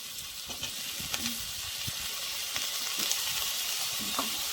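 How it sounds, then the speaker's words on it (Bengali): Chopped eggplant frying in oil with onion, green chilli and ginger, giving a dense, steady sizzle with a few light spoon scrapes and taps in the pan, and no voices. "এবার আমি দিয়ে দেবো বেগুন কুচি"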